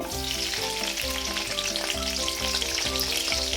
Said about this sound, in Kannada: ನೋಡಿ ಇದು ಸ್ವಲ್ಪ ಫ್ರೈ ಆಗಬೇಕು ನೋಡಿ ಈ ಥರ ಆಯಿಲಲ್ಲಿ ಫ್ರೈ ಆದಮೇಲೆ